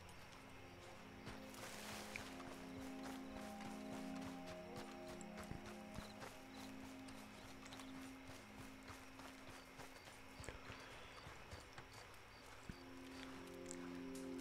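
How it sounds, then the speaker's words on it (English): A horse's hooves clip-clop steadily in the video game Red Dead Redemption 2, with soft, uneven footfalls over a low ambient hum of the game world. "I think this is Charles' horse"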